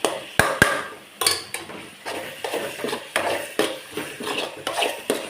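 Spoon stirring tomato sauce into chicken ball curry in a metal pan, a couple of sharp clanks followed by a steady series of scraping, knocking strokes, close and clear, with no talk.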